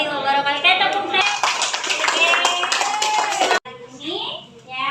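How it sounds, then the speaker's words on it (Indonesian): A school class claps hands together after a lesson, a burst of brisk clapping following children's voices, then a sudden stop and a voice speaking alone afterward. "Kita tepuk tangan"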